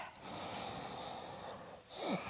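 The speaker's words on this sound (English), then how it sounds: "Ujjayi might sound a little bit like a snore. There's a gentle audible sound to this breath." Slow, gentle Ujjayi yoga breathing, a soft snore-like rushing breath drawn in and out, quiet and close, with a brief pause before the next breath.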